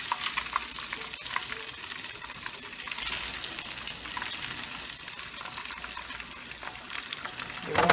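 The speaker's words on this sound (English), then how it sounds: "the bottom is frying and soaking in all that grease" Fish fries in a pan of hot grease, giving a steady, dense crackling sizzle that stays loud and close throughout, with no voices over it.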